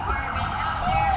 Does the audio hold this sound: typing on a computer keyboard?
no